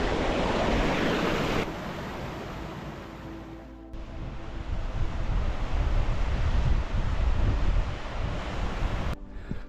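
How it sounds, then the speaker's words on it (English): Steady roaring rush of a waterfall near Hart Crag's Priest's Hole in the Lake District, loud and continuous throughout, with a rough wind-like texture and no voices. "I'll try not to get washed down the waterfall here"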